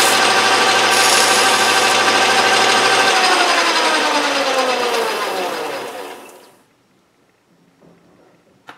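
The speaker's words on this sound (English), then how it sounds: "I'll just take some emery cloth to that and shine it up" A metal part spins on a 1931 South Bend 11 lathe while it is polished with emery cloth, giving a loud, steady whirring rush that winds down and fades into near silence after about six seconds.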